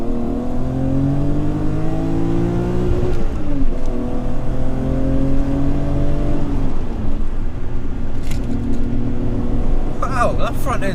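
A 3.6-litre BMW E34 M5 engine revs hard under full acceleration, its rising, droning note climbing and dipping through the pull, loud and close from inside the car.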